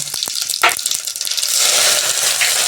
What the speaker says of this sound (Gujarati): પછી હિંગ નાખવાની, જીરું પણ નાખવાનું